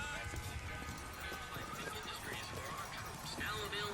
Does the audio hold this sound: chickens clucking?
no